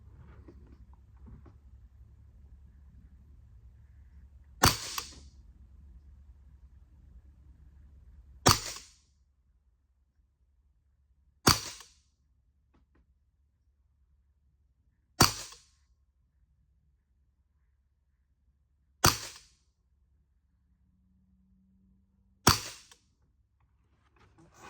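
Six single shots from a Karma Airguns SLS .22 caliber pre-charged pneumatic airgun on semi-auto, each a sharp isolated crack spaced a few seconds apart, fairly close and alone against near silence after a faint low hum fades.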